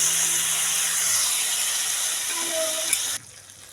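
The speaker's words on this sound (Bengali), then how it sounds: "এবার পেস্টটা দিয়ে দেব।" Spice paste for a kabuli chickpea curry hits a hot pan just emptied of fried paneer, giving a loud, steady hiss and sizzle that holds evenly for about three seconds, then cuts off abruptly.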